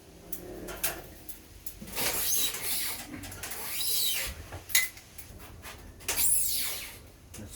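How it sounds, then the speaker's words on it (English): A smoked chicken quesadilla is flipped in a pan: scraping and shuffling of spatula against the pan, a sharp knock near the middle, and sizzle bursts, with no talking. "let's flip this one over"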